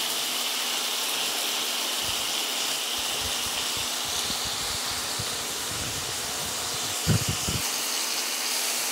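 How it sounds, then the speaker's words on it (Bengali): Potatoes fry in a pan in a home kitchen with a steady, loud sizzling hiss that runs unbroken throughout, plus a few low knocks and clatters near the end. "এবার আলুটাকে একটু ভেজে নেব।"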